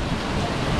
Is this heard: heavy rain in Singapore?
yes